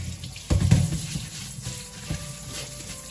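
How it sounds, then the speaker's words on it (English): Cold water runs from a kitchen tap for washing sushi rice, a splashy gush starting abruptly, then easing into a quieter trickle with a few small splashes close by. "So cold water. I'm gonna wash my rice 3 times."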